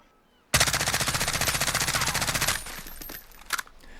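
An AAC Honey Badger rifle in Call of Duty Modern Warfare firing a sustained full-auto burst of about two seconds, rapid evenly spaced loud shots, then a short tail of echo and a couple of faint clicks.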